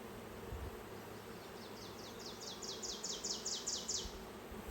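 Honeybees buzzing at a hive as a package colony is installed, a soft steady drone with a series of rising insect buzz bursts passing near in the second half.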